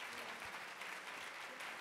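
Continuous audience applause at a conference breakfast for a panel of women: a dense, even wash of many hands clapping, steady in loudness throughout and heard from within the room.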